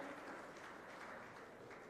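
An indoor audience at a semiconductor industry event applauds steadily, a faint, even wash of clapping that carries on without pause.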